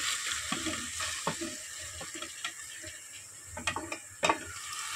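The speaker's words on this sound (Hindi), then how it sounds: "टमाटर अच्छे से भून लें।" Tomatoes fry in a pan for dhaba-style pasta, with a steady close sizzle broken by scraping stirs and a few sharp clatters of the spoon against the pan.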